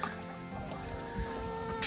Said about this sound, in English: So the ice goes right into their water dish, just like so.